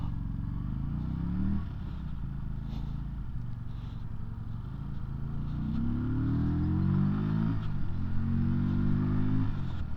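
A QJMotor SRV125 budget 125cc cruiser motorcycle engine drones steadily while riding, rising in pitch through a few accelerations with gear changes and staying close and fairly loud throughout.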